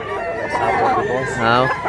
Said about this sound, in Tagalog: Daghag manok